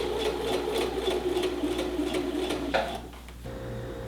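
A domestic sewing machine runs steadily, stitching a set-in sleeve's arm seam with a fast even whir of needle strokes, then slows and stops near the end, leaving a low hum.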